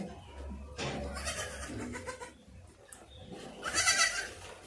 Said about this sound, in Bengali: বিভিন্ন জাতের এখানে ছাগল রয়েছে